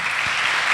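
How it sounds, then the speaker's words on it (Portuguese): Church congregation applauding a married couple celebrating 43 years together, a dense steady wash of many hands clapping at even loudness throughout, with no voices. "Salva de palmas para esse casal"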